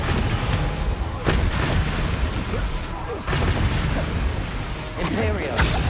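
The Descendo spell impact in the video game Hogwarts Legacy lands as heavy booming thuds over a dense, loud wash of combat noise, with distinct hits spaced a couple of seconds apart.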